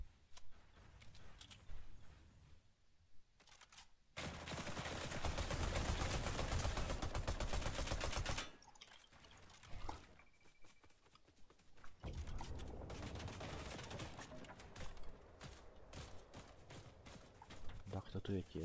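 Video game gunfire crackles in rapid bursts and long sustained volleys, with pauses between exchanges, while a player talks over much of the action.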